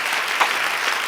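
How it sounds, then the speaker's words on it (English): A short burst of steady, dense applause from a Rotary club audience, uniform and fairly loud with no voices over it. "Let's give these guys a big round of applause."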